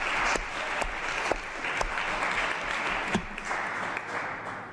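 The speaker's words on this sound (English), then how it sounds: "can we have a big round of applause for all the candidates?" A big round of applause from the audience at a 2016 election hustings, steady dense clapping with a few sharp louder claps standing out, sustained throughout at moderate level.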